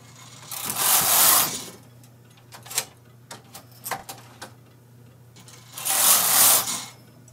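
The carriage of a Brother KH585 knitting machine swishes across the needle bed in two loud sweeps, separated by a run of sharp mechanical clicks as needles are selected.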